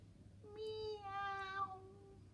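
A person imitating a cat's meow, a single drawn-out rising and falling vocal meow, close and fairly quiet over a low background hum.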